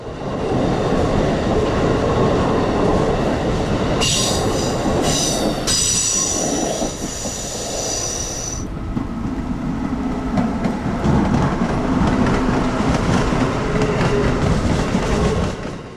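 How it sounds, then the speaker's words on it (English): Amtrak Regional Train 136 passes eastbound on Track 4 beneath the SoNo Switch Tower in heavy rain, a loud continuous roar of rolling cars with wheel squeal and clatter throughout. "Amtrak Regional Train 136 glides by eastbound on Track 4"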